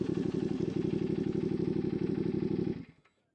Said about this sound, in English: if you're stopped but you're in first gear and you put your kickstand down, the bike will automatically turn itself off